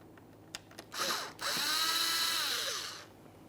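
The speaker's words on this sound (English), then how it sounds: "We'll start by removing all of the Phillips head screws" A cordless power tool whirs loosening a Phillips head screw on the grille of a 2014-2018 Mazda 3, first a couple of clicks and a short burst, then a longer close, steady spin that winds down.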